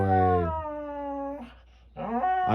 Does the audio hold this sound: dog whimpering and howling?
yes